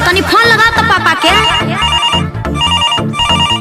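A phone rings after a call is dialed in a Bhojpuri film scene: a loud, close, repeating electronic ringtone melody cycles steadily through the whole stretch, with no talking over it.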